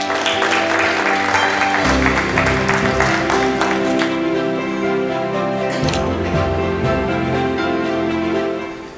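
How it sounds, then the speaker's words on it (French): Audience applause fills a Francophonie day ceremony, steady and sustained for several seconds over music playing in the hall, fading out at the end. "Je vais l'applaudir."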